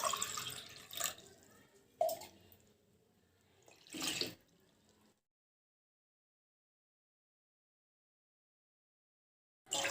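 Water poured into four tablespoons of ragi flour and stirred in a bowl: a few short splashy pours and mixing bursts over about five seconds, then silence.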